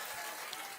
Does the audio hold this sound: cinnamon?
no